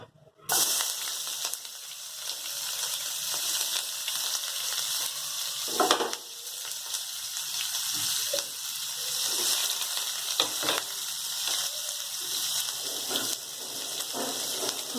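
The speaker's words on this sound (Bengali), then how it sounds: "এবার আমি এর মধ্যে পেঁয়াজ ছেড়ে দেবো, পেঁয়াজ কুচি।" Two large chopped onions hit hot oil with a sudden loud sizzle that holds steady and bright, broken now and then by the scrape and clatter of stirring, close by and without speech.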